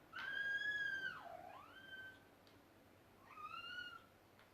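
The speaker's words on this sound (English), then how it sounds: "Cat's crying to get out." A cat cries to get out, giving one long, rising-then-falling meow, a short pause, then a second shorter meow, fairly clear against quiet room background.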